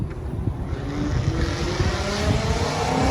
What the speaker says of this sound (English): there goes a Mustang